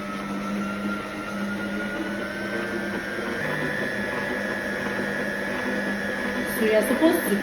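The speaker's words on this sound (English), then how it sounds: "So right now we're adding in our sugar and we'll continue creaming." An electric mixer creams butter and sugar for a vanilla cake, a steady mechanical whir with a faint tonal hum running under a person talking throughout.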